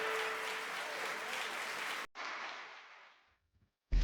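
A crowd in the cycling video game Tour de France 2026 claps and cheers loudly for a couple of seconds, then the applause cuts and fades out, ending with a brief thump.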